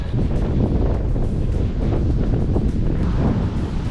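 Strong wind buffets the microphone while cycling on rural roads, a loud continuous low rumble and roar that holds steady throughout with no voices.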